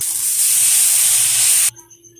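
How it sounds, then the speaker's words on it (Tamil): Batter for an egg and chicken curry dosa hisses and sizzles steadily on a hot pan, loud and close, then cuts off abruptly near the end, leaving faint background. "கறி தோசை ஊற்ற போகிறேன். அதுக்கு 3 முட்டை உடச்சி வச்சுருக்கிறேன்."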